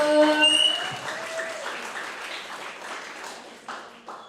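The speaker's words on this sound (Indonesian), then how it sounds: "beri tepuk tangan dong buat Kak Ike." A crowd applauding, clapping loud at first and then thinning out, with a few voices briefly audible near the end.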